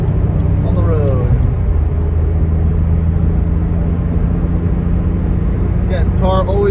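A Porsche 997.1 sports car drives on the road with a steady, loud engine and road rumble throughout, and a few brief higher tones near the start and end.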